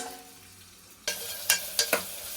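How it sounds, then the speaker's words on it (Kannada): Onions frying in a pan for menthya bath, quiet at first, then a sudden loud sizzle followed by several sharp scraping stirs of a spatula against the pan. "ಈರುಳ್ಳಿ ಹಾಕಿ ಚೆನ್ನಾಗಿ ಫ್ರೈ ಮಾಡಿ."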